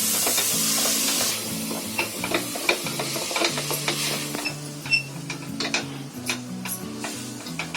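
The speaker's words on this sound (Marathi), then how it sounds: "फुल गॅसवर मी 1 मिनिट डाळ ढवळून घेतली बघा." Masoor dal stirred over full flame in a pressure cooker with onion and tomato, a hiss of sizzling opening the stretch, then steady scraping and clinking of a spoon against the metal pot in an irregular rhythm.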